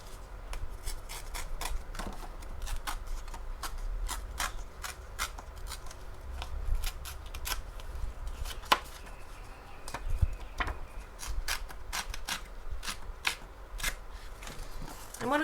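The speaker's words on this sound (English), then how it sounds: "I'm just going to rip this one up." Paper is torn up by hand in a quick series of sharp, close ripping and crinkling bursts that repeat steadily, with occasional rustling between them.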